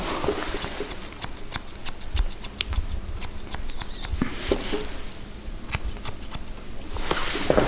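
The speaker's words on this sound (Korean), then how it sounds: "이렇게 가위로 좀 이렇게 다듬어 주고" Scissors snip at a West Highland White Terrier's coat during grooming, a rapid series of close, crisp metallic cuts in uneven bursts with soft rustling between.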